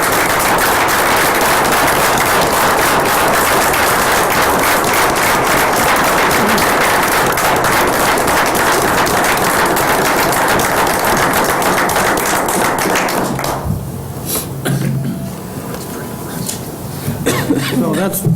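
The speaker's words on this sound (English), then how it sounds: "So I ask you to join with me in a round of applause for Roy." An audience at a city council meeting applauds in a long, loud, dense stretch of clapping that fades near the end, leaving a few scattered claps and murmurs.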